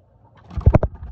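A Sialkoti breeder pigeon gives a short, low, throaty coo of a few quick pulses, close and fairly loud, after a brief quiet moment.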